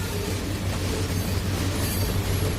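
A train rolls along the rails in the Trainz 2019 railroad simulator, giving a steady, continuous low rumble of wheels and cars with no voices over it.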